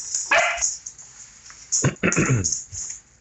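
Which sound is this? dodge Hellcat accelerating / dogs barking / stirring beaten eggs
dogs barking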